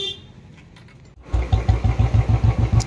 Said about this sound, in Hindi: सबसे पहले भाई स्टार्ट करो गाड़ी, इस बार आरपीएम सुनाते हैं